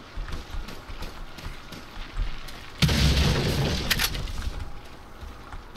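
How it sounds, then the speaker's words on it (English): A hand grenade blast in Resident Evil 4 lands as a sudden loud boom partway through, followed by a few seconds of rumbling, crackling debris over ongoing game noise. "A hand grenade, that's good enough."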